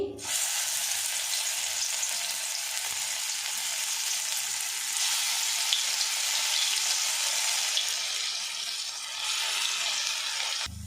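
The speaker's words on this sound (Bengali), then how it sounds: "এর মধ্যে ছোট ছোট বড়া আকার করে আমি ভেজে নেব।" Small fritters (bora) fry in a pan with a close, even crackling sizzle that holds steady throughout with little variation.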